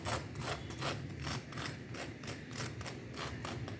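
Crispy-topped potato bread fingers being handled and pressed, giving a run of dry, crackly crunches in a steady rhythm, close and fairly loud with no voices.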